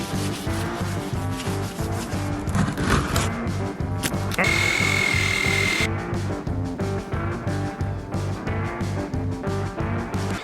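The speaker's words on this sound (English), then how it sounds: "That being said, let's get to sanding." Sanding on the exterior hull of a small boat rasps in fast, rhythmic back-and-forth strokes, loud and close, with a brief smoother stretch midway and no talking.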